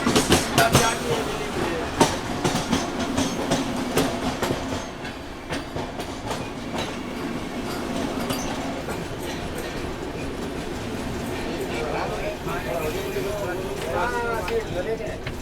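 The Varanasi–New Delhi Vande Bharat express passing close by on Indian rails, with a loud, continuous rumble and rapid clickety-clack of wheels. People speak over it.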